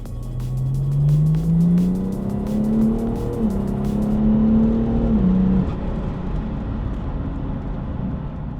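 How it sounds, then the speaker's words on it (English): BMW 435d diesel with a big intake and upgraded turbo, about 440 hp, revving hard as engine pitch climbs steadily then drops, with turbo whoosh and intake suction loud and close, no talking. "Constantly hear it just sucking in air, constantly wanting more. Just wants to spool and"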